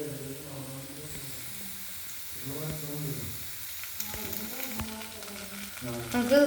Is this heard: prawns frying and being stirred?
yes